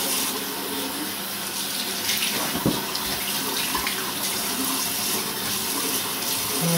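Tap water runs steadily into a sink while something is rinsed, a continuous close splashing flow with a brief clatter partway through.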